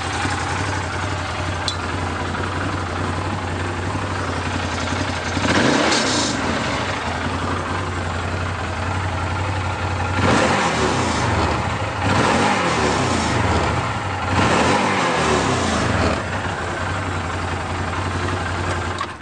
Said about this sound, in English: Just that V-twin engine just really sounds awesome in these things.